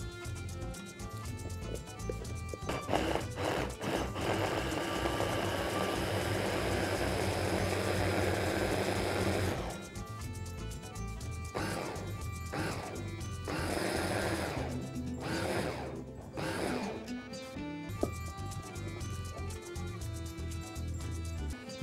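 A kitchen blender whirs loudly, mixing a paprika and honey marinade for chicken fillet, with the motor running in bursts that stop and restart several times.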